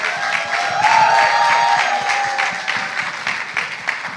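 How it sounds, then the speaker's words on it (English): An audience at a business conference applauds as a show host walks on stage. The clapping is full and sustained, swelling early and then thinning slightly toward the end, with a faint tone running underneath. "Ladies and gentlemen, keep the round of applause coming."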